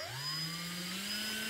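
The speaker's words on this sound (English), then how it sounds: "We are now going to make another 1/4 inch hole right around here." A drill spins up and whines steadily while boring a 1/4 inch hole into a plastic storage bin, a rising electric motor tone held alone for a brief moment.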